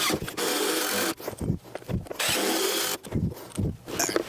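Power drill driving a 3-inch Simpson Strong-Tie structural screw into an LVL beam during a kitchen remodel, two loud sustained whirring runs separated by short clunks and handling noise.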